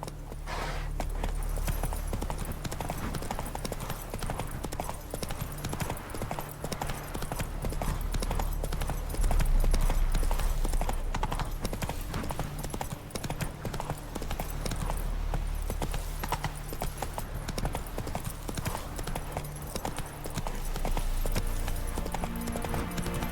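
Roach, a horse in the video game The Witcher 3: Wild Hunt, walks with steady, continuous clip-clopping hooves under a dense, loud game soundscape that runs the whole time.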